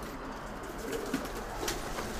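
Racing homing pigeons coo softly in a loft, a few low murmuring calls under faint background noise, close but quiet.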